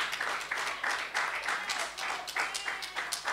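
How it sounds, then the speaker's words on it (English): An audience at a Seventh-day Adventist church event in Harlesden applauds a guest speaker, Lorna, with a steady wash of many hands clapping, moderately distant and continuous, with rhythmic swells. "let's give a round of applause to Lorna."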